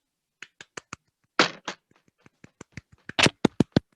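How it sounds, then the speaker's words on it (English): A hand smacks a desk several times in place of applause, giving a run of sharp, uneven slaps and taps, some single and some in quick clusters, close and dry. "did you just smack your fucking desk instead of applauding?"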